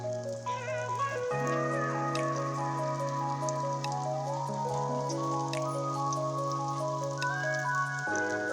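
Plantain pieces fry in hot oil with curry leaves on a tawa, giving a steady crackling, rain-like sizzle that runs throughout under sustained background music.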